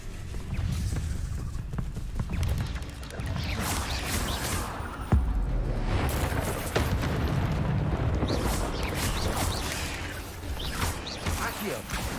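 Incendio fire spell cast repeatedly in the game Hogwarts Legacy, whooshing bursts of flame and impacts mixed with thuds and clatter across a busy combat sequence, with voices speaking over it.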